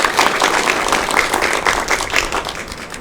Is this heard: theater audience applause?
yes